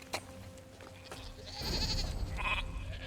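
Goat in the Elder Scrolls Online game giving a short bleat, preceded by quieter game sounds, the call rising midway and trailing off.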